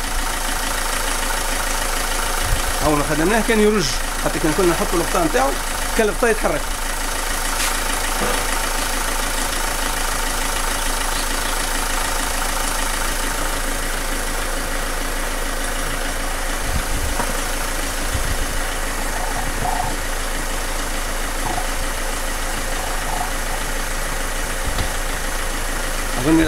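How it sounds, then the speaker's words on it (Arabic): A car engine idles steadily after its fuel injectors were cleaned, a low continuous hum and vibration running throughout, with someone speaking briefly near the start. "صوت المحرك عمليا ينقص"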